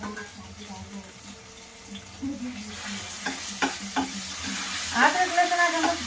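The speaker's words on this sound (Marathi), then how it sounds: "असं भाजून घ्यायचं तेलामध्ये" Food roasting in oil in a home kitchen, stirred with a utensil, makes soft sizzling with intermittent scraping clicks that build toward the end, while someone talks in the background.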